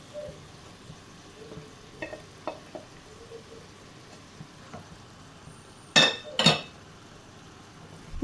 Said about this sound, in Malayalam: ഇനി നമുക്ക് ജസ്റ്റ് ഒന്ന് ഇളക്കി മിക്സ് ചെയ്തെടുക്കാം.